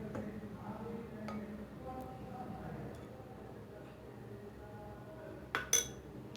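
Metal utensil clinks and scrapes against a bowl while dough is mixed with ghee, a few sharp light taps rising from a low kitchen background near the end.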